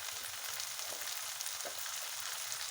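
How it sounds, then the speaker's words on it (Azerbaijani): Chopped onions frying in a pan for Azerbaijani fish buglama, a steady close sizzle that holds evenly throughout with faint crackles and no talking. "baxın soğançamız belə qovrulub və onun üzərinə bax göylərimizi beləcə əlavə edirik"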